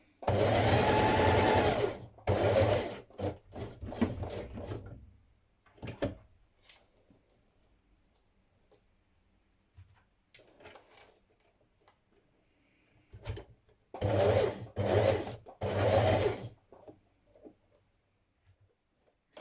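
A domestic sewing machine understitching around a blouse neckline runs in loud bursts of rapid stitching, separated by quieter pauses with small handling clicks.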